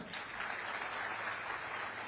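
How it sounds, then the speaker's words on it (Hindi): A crowd at a Chhattisgarh government event applauding steadily for about two seconds, dense clapping at an even level with no voices on top. "तालियां।"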